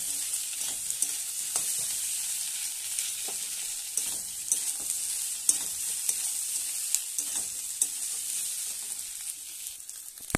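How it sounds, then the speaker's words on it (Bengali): Ginger-cumin paste and spices sauté in a pan for tangra fish curry, giving a steady close sizzle broken by frequent scraping stirring strokes, with no talk. "আদা জিরে বাটা দিয়ে দিচ্ছি। একসঙ্গে মশলা কষে"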